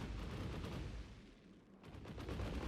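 Rapid gunfire with explosive bullets in the online shooter UpGun, a dense rattling barrage that dips briefly in the middle and then resumes at full intensity.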